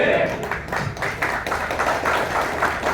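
A few people clap sparsely after a speech at a community guidance meeting with the local military command. The clapping is close and uneven, with talk mixed in.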